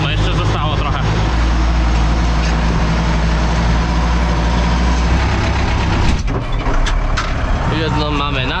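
A Bizon Z056 combine harvester's heavy engine drones loudly and steadily throughout during harvest, with a deep low rumble, while a person talks over it.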